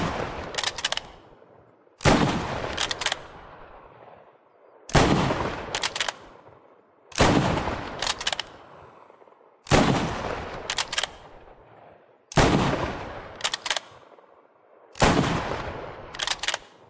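Rifle shots fired while zeroing a sight at 400 metres in the Squad 44 video game: seven loud, evenly spaced single cracks about two seconds apart, each followed by a rolling echo that fades before the next shot.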